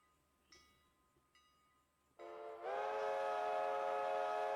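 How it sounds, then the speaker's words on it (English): Train in a railroad video game loading at Bryson station: faint mechanical clicks, then a loud steady whistle-like tone that starts abruptly and holds on, alone with no talk. "train is almost done loading at Bryson"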